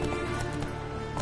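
Roach, the horse in The Witcher 3, gallops in a brief burst of muffled hoofbeats, faint and quick under game background sound.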